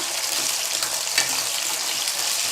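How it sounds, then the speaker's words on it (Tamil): Ivy gourd sautéing in oil in a pan, a steady close hiss and crackle of frying with a brief stir near the middle, no voices. "கோவக்காய் போட்டு நல்லா ஒரு எண்ணெயிலே நல்லா வதக்கி எடுத்துருங்கம்மா"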